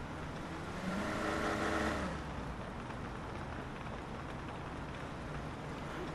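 A wide police car drives in the video game Police Simulator, its engine a steady low drone with a slightly louder surge early on, continuing evenly without speech.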